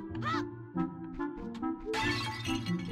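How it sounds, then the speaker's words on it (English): Sharp shattering crashes from the smashing effect in an Unreal Engine 4 remake of Zelda 64, several distinct breaks with glassy debris over a game music bed, the last crash loudest and most sustained. "Smashing effect."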